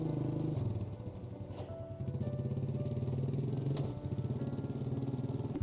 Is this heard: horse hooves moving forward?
no